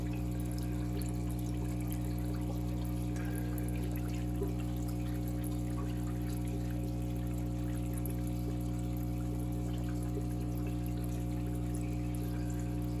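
Steady pouring water while rinsing baby plecos from a breeding tank, a continuous soft splash and trickle close by over a low constant hum.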